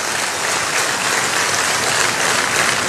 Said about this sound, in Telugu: గట్టిగా చప్పట్లు కొట్టి హ్యాపీ బర్త్డే చెప్పాల్సిన కోరుతున్నాం